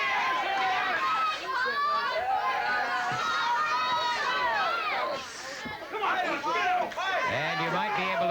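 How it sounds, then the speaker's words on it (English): Outside crowd voices shout and cheer for wrestler Buzz Sawyer during his 1980s Georgia Championship Wrestling rematch with Paul Orndorff, a steady lively babble of overlapping yells that rises and falls throughout. "you might be able to hear some outside voices cheering on Buzz Sawyer"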